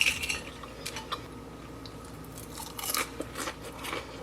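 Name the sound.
biting and chewing crunchy cheddar chicken cutlets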